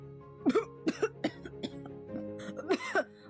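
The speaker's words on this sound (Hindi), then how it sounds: "उन्होंने खांसते हुए कहा" A fit of close coughing, several sharp coughs in quick succession, a short pause, then two more coughs.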